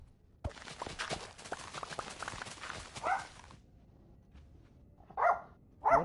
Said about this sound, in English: These damn dogs.